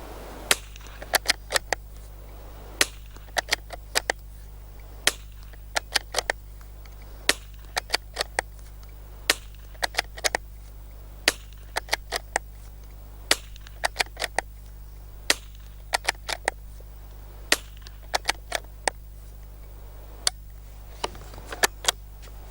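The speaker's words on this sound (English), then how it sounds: "So I'll just run a few rounds through it now" .22 LR rounds fired from a Ruger American rimfire rifle: many crisp, sharp cracks in irregular bursts and single shots over a steady low hum, fairly close, with no speech.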